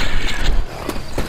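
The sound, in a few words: weapon reloading in video game Left 4 Dead 2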